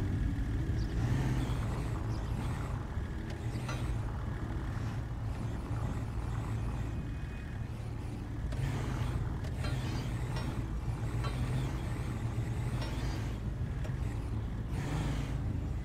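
A tow truck drives in the video game GTA 5, its engine humming steadily with a constant low rumble and occasional rises in pitch throughout, with no voices.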